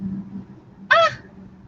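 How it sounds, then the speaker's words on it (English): Ducks passing by outdoors give one brief, nasal honking quack that rises out of a low, constant background rumble, fairly close and loud, with no talk over it. "Oh, look, all the ducks that are passing."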